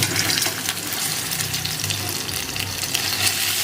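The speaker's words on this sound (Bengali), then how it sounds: "এগুলিকে কিছুক্ষণের জন্য একটু ফ্রাই করে নেব" Pieces of arum and potato fry in hot oil with bay leaf for a fish curry, giving a dense, steady, close sizzle throughout.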